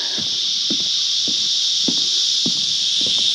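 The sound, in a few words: cicadas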